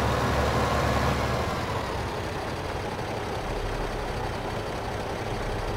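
A tractor engine in the video game Farming Simulator 15 drones at a steady idle, a loud, continuous low rumble with no speech.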